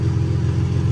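Infiniti G37 sedan engine fitted with a new Y-pipe, a steady low rumbling drone held close and loud for under a second, with no talking.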